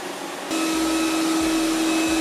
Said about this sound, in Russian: Во время сухой уборки уровень шума в пределах